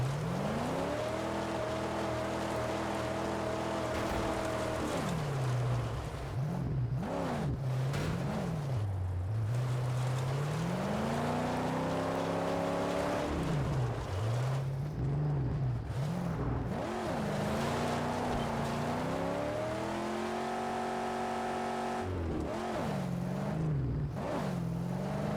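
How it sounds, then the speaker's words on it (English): A car engine revs up and drops repeatedly as gears change while driving, a close, steady drone whose pitch climbs, falls and jumps through several uneven shifts. "Grind the gear, grind the gear, grind the gear."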